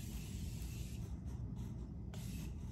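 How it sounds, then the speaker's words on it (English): Morphe continuous setting spray misting out in a few soft, airy hissing bursts over a steady low background, with no one talking. "this is the Morphe setting spray, the continuous setting spray"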